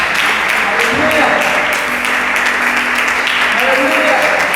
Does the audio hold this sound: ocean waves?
no